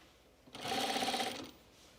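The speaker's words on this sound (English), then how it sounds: "I'm still sewing." A sewing machine stitches a button fabric seam in one short burst of rapid, rhythmic needle clatter lasting under a second, close up against a quiet room.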